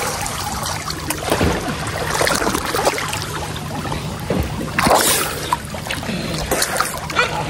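Water splashes and sloshes steadily in a swimming pool, a dense, continuous wash of churning with brief louder surges, close by, with faint voices mixed in.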